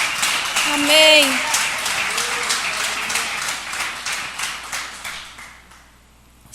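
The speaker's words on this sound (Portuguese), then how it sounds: "Dê um forte aplauso ao Senhor." A church congregation claps for the Lord, a crackling patter of hands swelling under a brief spoken word early on, then thinning and fading away toward near silence.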